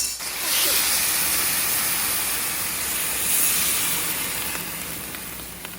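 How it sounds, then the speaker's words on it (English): Seafood and chicken paella boiling on a stovetop at lower heat, a steady bubbling hiss with faint sizzle that holds throughout. "you see we got a nice boil going here"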